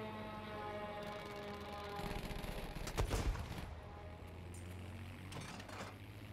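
Anti-aircraft gunfire in a video game rattles in a brief cluster of rapid bursts midway over a constant low droning engine hum, fairly faint and distant overall.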